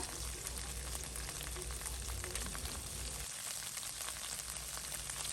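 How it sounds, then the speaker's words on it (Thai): Steady, soft sizzling of paneer pan-frying in hot mustard oil, a continuous crackle without voices. "นำปานีไป จี่กับกระทะให้มันสุกค่ะ"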